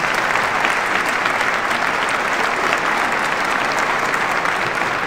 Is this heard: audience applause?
yes